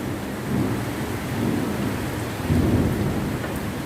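Rain pours steadily during a desert thunderstorm, with low rolling thunder swelling and fading underneath the constant hiss of drops hitting surfaces; no voices.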